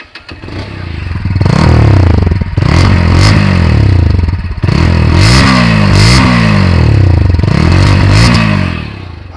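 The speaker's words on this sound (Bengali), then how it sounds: "এখন আপনাদের বাইকের সাইলেন্সারের সাউন্ডটা একটু শোনাই দিই" A GPX Demon 165R motorcycle with no aftermarket exhaust revs hard and loud close by, its engine note swelling and dropping in repeated throttle blips with some mechanical clatter.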